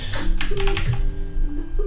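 Close, loud clatter of keys on a computer keyboard during a coding session, a quick irregular burst of keystrokes that thins out toward the end.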